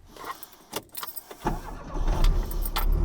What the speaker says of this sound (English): This is your ride along in your new 1967 Austin Mini Cooper.